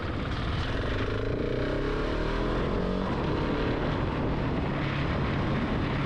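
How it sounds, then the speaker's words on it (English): A KTM 690 SMC-R single-cylinder motorcycle is ridden hard in its most aggressive mode, its engine a loud, constant drone blended with heavy wind rush throughout, heard up close from the rider's position without talk. "I'm gonna ride the KTM in its most aggressive setting."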